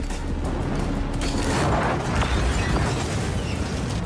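An explosion in a 2023 crime film produces a long, dense roar of blast noise and rumbling debris that holds steady for several seconds without a single sharp peak.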